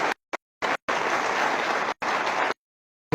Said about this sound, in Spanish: Le damos un fuerte aplauso a estas dos hermanas que nos acompañan